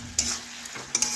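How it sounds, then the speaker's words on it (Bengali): Potatoes and tomato stirred in a hot frying pan, with a couple of quick scraping strokes over a steady low sizzle, close and alone. "আলুগুলি এখন নাড়াচাড়া করে একটু কষে নিচ্ছি।"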